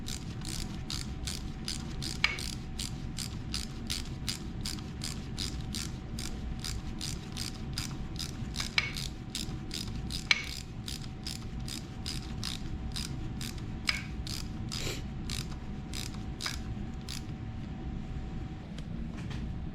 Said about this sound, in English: we're going to use a little ratchet here to just snug everything up